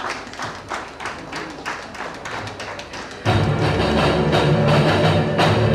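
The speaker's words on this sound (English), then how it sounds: "Please, a round of applause as he makes his way." Audience applause at a media conference as a politician walks onto the stage, starting as scattered claps and thumps, then swelling abruptly into loud, dense, sustained clapping from a large crowd.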